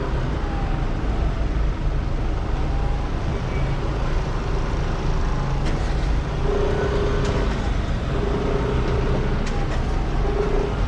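Edinburgh city traffic at festival time, heard from an Aprilia SR GT 125 scooter inching along: a steady, close rumble of engines and road noise with cars and buses around, and no talking.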